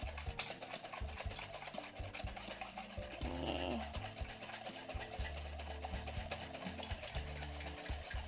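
A whisk beats batter in a bowl for a roll cake, a rapid, rhythmic clicking and scraping that continues steadily throughout, fairly close, with light background music.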